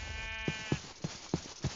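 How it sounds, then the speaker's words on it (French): Sheep in Minecraft bleat five times in a steady, evenly spaced series, each call short and fairly close, over a faint ambient game background with no talking. "Là, je me demande vraiment si c'est pas d'autres moutons."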